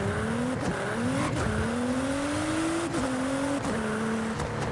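Subaru Legacy engine in the Forza racing game, driven in manual mode: a steady revving drone climbing through the gears, with a brief dip at each shift about every second and a half, loud and close throughout.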